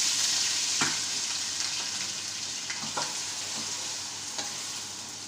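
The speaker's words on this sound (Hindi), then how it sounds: "इसको तकरीबन 2 से 4 मिनट को पहले फ्राई करेंगे।" Potatoes fry in hot oil with garlic ginger paste, making a steady, close sizzle with occasional stirring scrapes and clinks.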